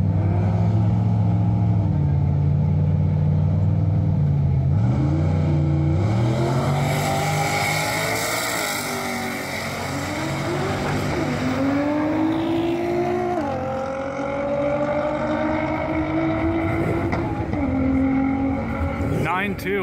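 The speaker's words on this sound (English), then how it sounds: "68 Camaro with a big turbo on it versus Godzilla." Drag race between a big-turbo 1968 Camaro and a Nissan GT-R, engines roaring and climbing in pitch through hard gear changes for the full run, loud and steady with a commentator talking over it.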